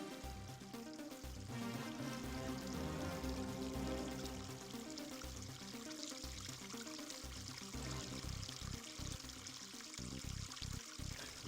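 The Petit Morin river flowing past a canoe course near a washhouse, a faint continuous watery rush and trickle heard under soft music.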